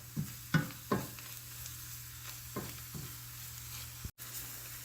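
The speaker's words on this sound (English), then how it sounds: "Just stir it around for a while. Let it turn brown." Oxtails browning in a pan give a faint low sizzle beneath a few distinct scraping knocks as they are stirred and turned, with short gaps between strokes and no voices.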